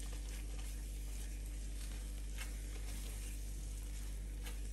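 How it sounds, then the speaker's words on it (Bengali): A cashew barfi (kaju katli) mixture with ghee is stirred in a pan, giving a continuous soft frying sizzle with faint scraping over a steady low hum. "এখন এগুলি ভালো করে এভাবে আমি নেড়ে চেড়ে নিব।"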